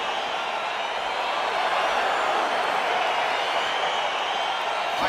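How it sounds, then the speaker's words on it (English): Steady roar of an arena crowd in the EA Sports UFC 4 video game, a dense continuous wash of cheering that swells slightly as a Korean heavyweight tournament bout begins, with no talk over it. "crowd getting excited as this fight gets underway"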